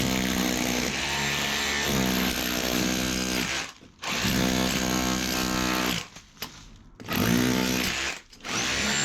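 A plumber's power drill fitted with a chisel bit hammers at a wall in bursts, a loud buzzing rattle that cuts out briefly between runs, close up and with no talk.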